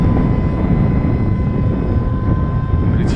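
A Hobbyking SU-35 radio-controlled model airplane, very light, flies in wind with a steady loud electric whine and buzzing motor tones over continuous wind rumble, holding evenly throughout.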